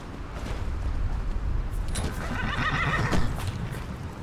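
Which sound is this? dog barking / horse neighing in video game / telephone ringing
horse neighing in video game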